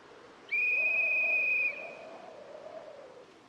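A loud, steady whistle blast of about a second, blown in the zombie survival game Project Zomboid build 42.3 in Echo Creek, with a softer tonal hum lingering beneath and after it.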